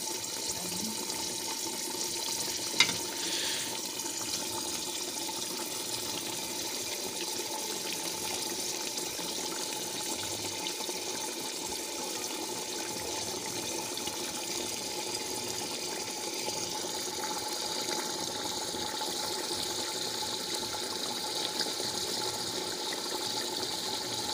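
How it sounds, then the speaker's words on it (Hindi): Water runs steadily into a cooking pot in a home kitchen, a soft, continuous pouring and trickling with a faint mechanical hum underneath and one brief knock early on. "उबाल के अब मैं इसमें ये पानी शामिल कर दूँगी इसमें"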